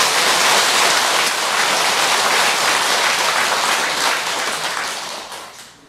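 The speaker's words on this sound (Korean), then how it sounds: "큰 박수 한번 보내주세요" Dense, steady applause from an audience at a Buddhist Avatamsaka Sutra dharma assembly, a continuous wash of many hands clapping close and loud, tapering off in the final second.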